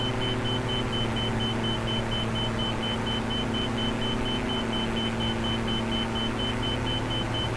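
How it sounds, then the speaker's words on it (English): A steady, evenly pulsed electronic beep repeats inside a small aircraft cockpit, partly masked by loud, constant engine and airframe drone, with no talk. "Sorry about the beeping."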